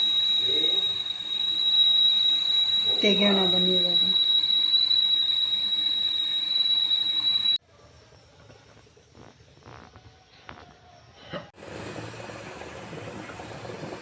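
A pressure cooker steaming pumpkin rava idli lets out a loud, sustained steam whistle for several seconds, followed by quieter kitchen clatter and brief talk.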